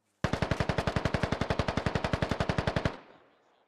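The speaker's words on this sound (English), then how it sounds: "They're just shooting into the trees, hoping they hit him." A militia in a military video game fires blindly into the trees: one loud, rapid machine-gun burst of about two dozen evenly spaced shots over nearly three seconds, then a short fading echo.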